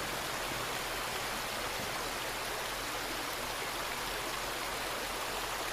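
Steady rushing water in the Resident Evil 2 Remake video game, a continuous, even broadband hiss of flowing water, fairly faint and unchanging throughout, with no talk over it.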